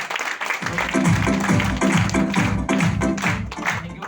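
An audience claps at a live gathering, a brisk run of even, rhythmic claps that stays steady and fairly loud for several seconds.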